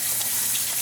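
Tap water runs steadily over fabric dyed with cherry wine, a brief, even splashing rush with no voices.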